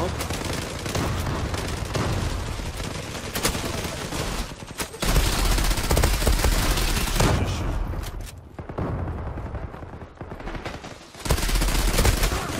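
Rapid automatic fire from a Kriss Vector submachine gun in a video game, loud, sustained bursts running almost continuously, with brief pauses and a faint voice now and then.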